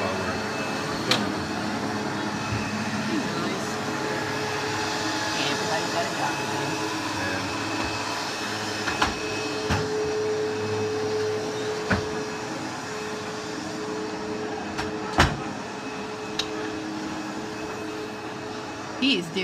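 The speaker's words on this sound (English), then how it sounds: "I like the sound of the vacuum cleaner while we're filming." Vacuum cleaner running indoors, a steady whirring drone under a family talking, with occasional knocks and bumps as it moves around.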